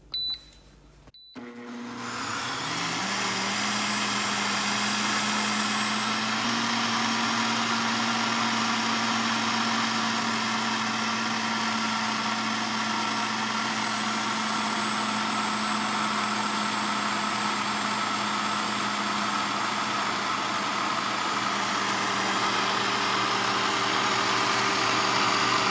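An Instant Pot Ace blender running on high in pulse mode, grinding dosa batter: a steady, loud motor whine with a sustained tone that holds for the whole stretch after a brief start, no talking.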